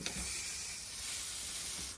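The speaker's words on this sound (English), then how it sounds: "Just spray a little bit of happiness there and just do a little touch up direct." A can of spray paint is used to touch up an upcycled baking tray. It makes a steady, close, even hiss that runs unbroken for about two seconds with no other sound.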